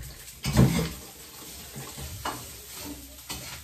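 Garlic fried rice cooking in a pan, with a close, soft stirring scrape and low sizzle, one louder clatter of utensil near the start and quieter shuffles after, no talking.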